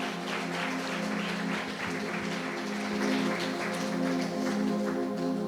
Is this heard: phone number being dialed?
no